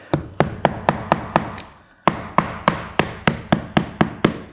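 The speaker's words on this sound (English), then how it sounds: "get a few nails here. and then nail off the miter here." Hammer driving roofing nails through the miter of vinyl siding J trim around a rough opening: about fifteen sharp, evenly spaced close blows in two bursts with a short pause between, no talk.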